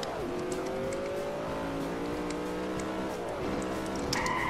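A stolen car in Grand Theft Auto accelerating up through the gears, the engine revving and rising in pitch with a tire squeal near the end, heard close and without talk.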